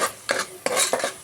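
A utensil stirs turmeric into a frying kichdi mixture in a metal pan, giving several short clattering scrapes in an irregular rhythm, close and moderately loud with no voices.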